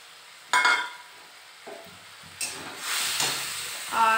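Spice paste of turmeric, cumin and coriander powder frying with pre-fried prawns and salt in a pan hisses and sizzles in swelling bursts as it is stirred, loud and close, with no speech.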